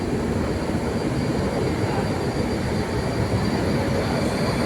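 A train rumbles steadily at New Jalpaiguri station, close and loud throughout. It is a continuous, even roar of rolling rail cars with no pauses.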